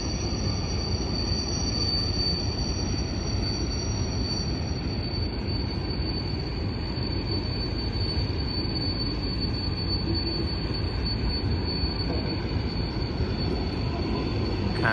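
A train rumbles past steadily and loudly through a canyon, wheels squealing in a high sustained whine over the low roar of the cars throughout.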